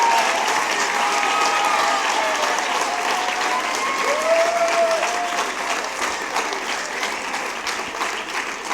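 Sustained applause from an auditorium audience of about 300 people at a youth science and ethics event, a dense steady clatter of clapping that holds strong throughout and eases only slightly toward the end.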